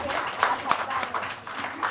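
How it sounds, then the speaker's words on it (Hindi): Audience applause at an occult summit gathering honoring Meeta Jani, a short burst of clapping with a few sharper claps standing out, mixed with some background voices. "जोरदार तालियां मीता बहन के लिए।"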